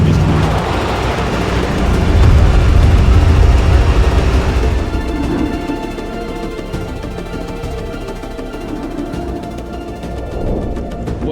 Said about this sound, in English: So warm these tires up and give her a good go on this one.